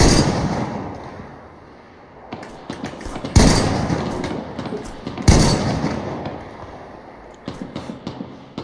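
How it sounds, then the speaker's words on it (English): Rifle fire in DayZ during an attempted headshot on a military AI convoy, two sharp loud cracks a couple of seconds apart with echoing tails, between quieter outdoor ambience and softer later pops. "Let's take our first shot. Go for a headshot."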